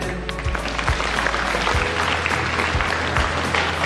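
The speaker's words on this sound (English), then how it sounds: "A huge round of applause for them." A school audience applauds students receiving certificates at a felicitation and prize distribution ceremony, a loud continuous patter of many hands with a few heavier thumps mixed in.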